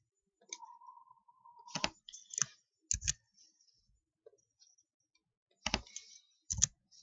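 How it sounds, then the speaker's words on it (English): Mouse clicks during map georeferencing in GIS software, crisp and close, coming in short pairs and small clusters with quiet gaps between them; a faint steady tone runs briefly near the start. "Left click once, right click once"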